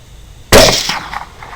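A 6.5 Grendel rifle fired at hogs at night gives a single sharp, loud crack that hits abruptly and decays over the next second, with no talk.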